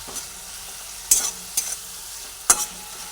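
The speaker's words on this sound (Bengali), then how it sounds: "সুন্দর করে ভেজে নিচ্ছি" Potato and pumpkin pieces frying with okra in hot oil, giving a faint steady sizzle broken by three or four sharp stirring scrapes, close by, with no voices.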